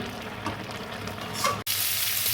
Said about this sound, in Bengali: চিংড়ি মাছগুলো এইভাবে লাল লাল করে দেখুন ভেজে এসছে প্রায় লাল করে ভাজবো